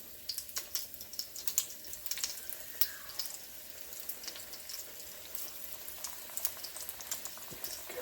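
Breaded dill pickles frying in hot oil give a faint, busy crackle and sizzle, with scattered small pops and spits throughout and no one talking.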